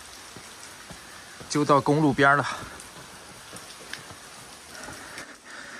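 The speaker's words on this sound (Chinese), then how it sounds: "雨越下越大了，所以没坐船。" Rain falls steadily in an old riverside town of historic buildings, a soft continuous patter on wet pavement and steps, with someone talking briefly over it partway through.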